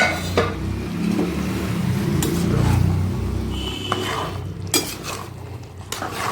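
A pot lid is lifted off a cooking veg masala biryani with sharp metallic clanks and scrapes of cookware, followed by light clinks and stirring sounds near the microphone, with no voices.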